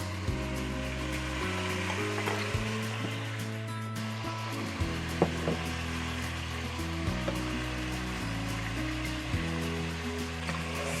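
Pieces of pork belly sizzling in a pan, a steady bed of frying crackle throughout, heard under background music with a repeating bass line, no talking.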